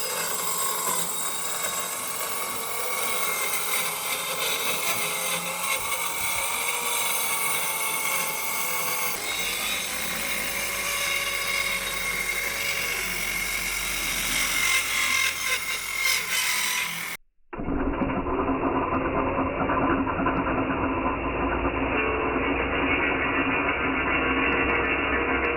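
A TACKLIFE 5.8A, 3500 RPM circular saw runs loud and close with a high whining drone, first through one sustained cut, then after a brief break through a second, narrower-toned cut.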